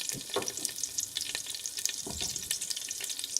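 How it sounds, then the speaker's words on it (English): Whole spices fry in a thin layer of oil in a pot for mutton biryani, giving a soft, steady crackling sizzle with scattered pops and light stirring scrapes, faint and with no talk. "in a pot we're going to pour in some oil to fill up the bottom of our pot. And we're going to fry our seeds"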